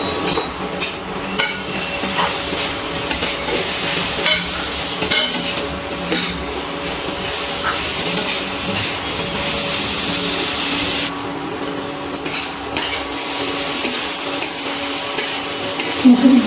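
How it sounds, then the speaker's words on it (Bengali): Masoor lentils being stirred together with gourd and potato in a pan, a steady scraping and sizzling texture that runs continuously for the whole stretch at moderate, close-up loudness, with no talking. "মুসুরির ডালটা আমি নাড়াচাড়া করে সব কিছুর সাথে মিশিয়ে নিয়েছি"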